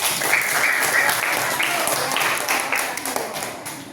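A class in a school setting claps together, brisk scattered applause lasting a few seconds with voices and cheering mixed in, tapering off at the end.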